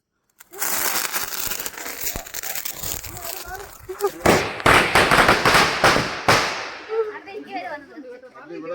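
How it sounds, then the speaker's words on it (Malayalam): A pile of firecrackers lit together at a Christmas celebration bursts in a rapid crackling string, then a cluster of sharp, loud bangs close by before the popping fades out. "ലാസ്റ്റ് വന്ന കുറച്ച് പടക്കം എല്ലാം കൂടെ കൂട്ടിയിട്ട് കത്തിക്കാൻ പോവാണ്"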